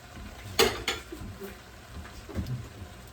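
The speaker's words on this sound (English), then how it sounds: "Throw my shrimp in here." Shrimp tossed into a frying pan for shrimp scampi with lemon juice: a sharp clatter of metal and food landing, a second knock, then soft scraping and stirring rattles at a quiet, close range.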